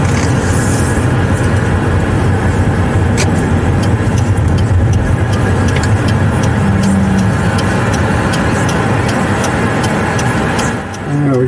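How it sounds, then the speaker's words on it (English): Steady road noise from a car cruising through a residential neighborhood, a continuous engine and tire rumble heard from inside the cabin with faint wind, holding evenly throughout before dipping briefly at the end. "Just driving through the neighborhood."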